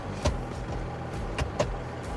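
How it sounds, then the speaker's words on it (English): Seat being adjusted inside an Isuzu D-Max pickup, with two sharp mechanical clicks or knocks and a low motor-like whir between them, close and fairly quiet in a still cabin. "make yourself comfortable by adjusting your seat, just down on the right-hand side there"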